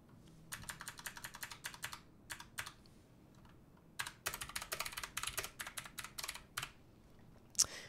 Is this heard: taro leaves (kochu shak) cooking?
no